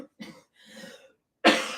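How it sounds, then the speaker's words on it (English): A single person's morning cough with some throat clearing: two or three short, close, dry bursts followed by one louder harsh cough, heard alone in a quiet home kitchen. "That morning cough thing going on."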